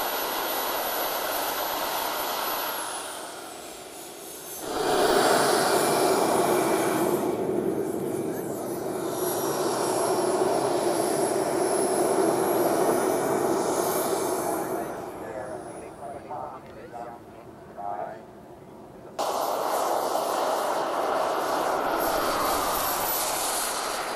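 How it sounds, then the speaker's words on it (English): A MiG-21 model jet built from an Airworld kit and powered by an AMT Pegasus turbine whines and roars loudly, a high turbine whistle over a broad rushing blast that swells, dips briefly, then returns at full power, with a voice talking over it. "The model is built from an Airworld kit and is powered by an AMT Pegasus jet turbine, developing 16 kilos of thrust"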